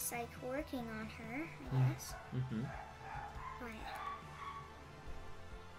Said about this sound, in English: our dogs are just barking and going crazy